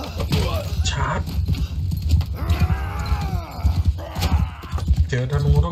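Cavalry horses charge at a gallop in the medieval battle game Mount & Blade 2: Bannerlord, with dense rapid hoofbeats, clattering and shouting over continuous loud battle noise while someone talks over it.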